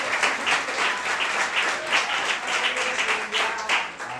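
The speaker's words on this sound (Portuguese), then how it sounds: "Uma salva de palmas ao Senhor" A church congregation applauding during a service, a full, rolling round of clapping in pulsing waves that fills the room, with no talk over it.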